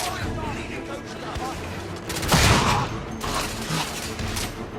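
Gunfire crackles in The Order: 1886, with a coach gun among the weapons: a continuous battlefield clatter with a heavier blast in the middle and further bursts after it, set against a busy background.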